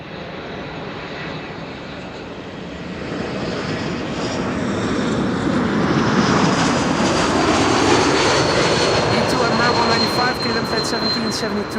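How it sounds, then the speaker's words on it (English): An Airbus A340 airliner arriving at Amsterdam Schiphol Airport swells from a distant jet rumble into a loud, broad roar as it passes overhead, steady and sustained with no talk. "And there's the A340."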